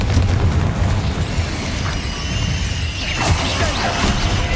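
A Confringo blasting spell erupts in Hogwarts Legacy, a loud close boom with crashing debris that rumbles and fades, followed by a second bright burst and whooshing crackle a few seconds later.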